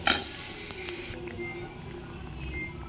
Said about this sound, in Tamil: அது போக கொஞ்சம் ஒரு அரை ஸ்பூன் அளவுக்கு கரம் மசாலா இது போட்டு நல்லா வந்து இதை வதக்கி விட்டுக்கோங்க